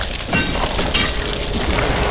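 The Incendio fire spell from the PS1 Harry Potter game lets out a loud, dense burst of roaring, crackling flame noise that holds steady for about two seconds.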